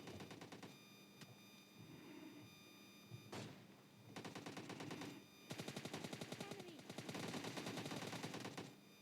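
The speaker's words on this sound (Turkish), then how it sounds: "bir şarjör boşalttım" Gunfire in the video game PUBG Mobile Lite as a full magazine is emptied: rapid automatic bursts come close and loud, with short pauses between strings of shots.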